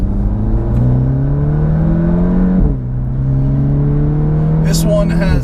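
Turbocharged Audi A3 2.0T with a big-turbo upgrade accelerating hard on a track, its engine note rising steadily through a gear, dropping at a shift, then climbing again, loud and close, with a brief hiss near the end.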